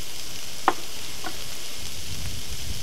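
Streaky bacon frying in a dry pan with no oil, a steady soft sizzle with a faint tick or two of contact on top.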